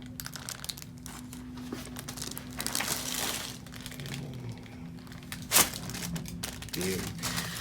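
Exam table paper crinkles and rustles intermittently beneath quiet talking, with one sharper crackle midway, close and moderately loud.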